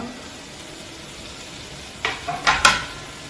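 Pepper chicken frying in a pan with fresh chopped coriander being stirred in, the quiet low sizzle broken near the end by a few short scraping clatters of the spoon against the pan, close by, with no talking.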